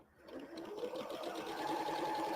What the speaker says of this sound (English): Once the strip's attached, right sides together, and we can sew that.